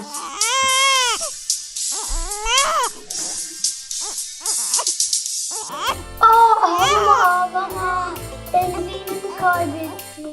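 An infant cries in a baby care video game, a run of wavering wails over the first few seconds, after which cheerful game music takes over.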